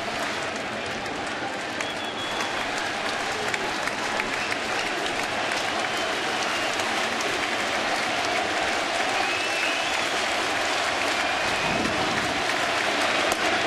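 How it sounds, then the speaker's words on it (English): A large baseball crowd at a Rockies versus Mets game cheers and applauds steadily, a dense continuous roar of clapping and shouting that swells slightly toward the end. "This crowd has been into it all night."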